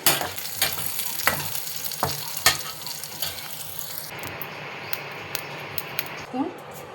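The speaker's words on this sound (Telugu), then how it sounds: "కొంచెం కొంచెం ఆయిల్ పోసుకొని వేపుకోవాలండి." Spices such as cumin, mustard seeds, dried red chilies, garlic and curry leaves sizzle in hot oil in a kadai, a continuous crackling hiss with sharp clacks of a spoon against the pan.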